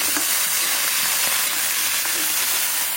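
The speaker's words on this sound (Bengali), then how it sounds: "এটা আলুটা একটু সুন্দর ভাজা ভাজা হয়ে গেছে" Potato pieces fry in hot oil with radhuni seeds, dried red chilies, garlic and green chilies, giving a loud, continuous, close sizzle with no talking.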